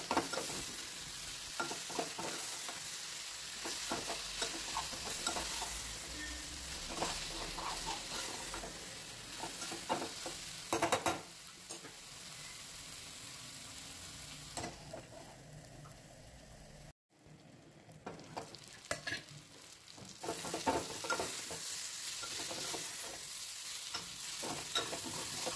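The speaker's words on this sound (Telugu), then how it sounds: "ఈ కూరని మధ్య మధ్యలో ఇలా తిప్పుకుంటూ ఉండాలండి." A brinjal curry with milk simmers in a pan with a continuous soft sizzle, broken by intermittent scraping and clinks as it is stirred, steady throughout with a brief drop partway.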